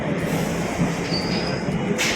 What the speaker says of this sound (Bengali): ট্রেন চলে এসছে আমরা এই ট্রেনটাতে উঠতে পারবো না